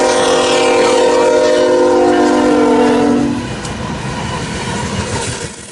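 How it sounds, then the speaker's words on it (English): An eastbound coal freight train passing in North Bend, Nebraska, sounds a loud sustained multi-note horn up close for about three seconds, then the rumble and rolling of the cars carries on. "This is a eastbound coal drag here in North Bend, Nebraska."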